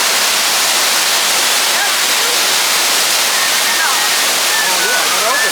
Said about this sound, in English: Clay wants to go over here by the waterfall and eat his lunch